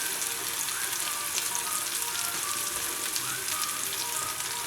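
Turmeric, red chilli powder and salt stirred into hot oil for a green bean bhaji, giving a steady, close sizzle with faint scraping from the spoon throughout.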